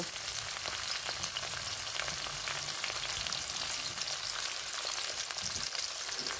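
Chopped large onion frying in hot oil with slit green chilli in a pan, a dense, even crackling sizzle that runs steadily throughout, close and fairly loud with no voices.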